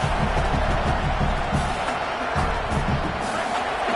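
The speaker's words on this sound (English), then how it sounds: "Listen to this crowd just shaking the girders of this place, trying to help their defense" A packed stadium crowd at a college football game roars continuously, a loud, dense wall of cheering and noise with no gaps.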